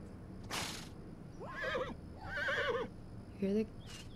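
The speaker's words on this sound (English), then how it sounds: "Oh, that's my horse." A horse in The Sims 4 video game whinnies twice in quick succession with rising and falling pitch, followed by a short snort-like call, with a brief noise burst at the start.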